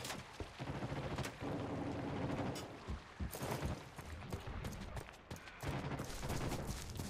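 Heavy, continuous gunfire in the sci-fi shooter Off Planet (Runners Weekend Beta) as a player is shot: dense, overlapping bursts of rapid shots, loud throughout, with a brief lull midway before more volleys.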